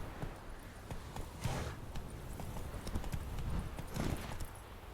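Roach the horse from The Witcher 3 galloping, a continuous rapid clip-clop of hooves throughout, fairly close and steady, with no talk.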